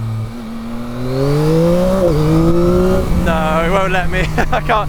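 A Yamaha MT-09 SP motorcycle engine revs hard and climbs in pitch during a wheelie, then shifts into second gear with a stepped rise, loud and close under a rider's voice.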